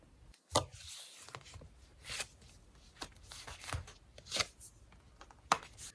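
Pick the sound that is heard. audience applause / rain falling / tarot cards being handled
tarot cards being handled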